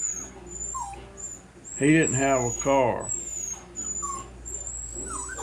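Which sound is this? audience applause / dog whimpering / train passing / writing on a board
dog whimpering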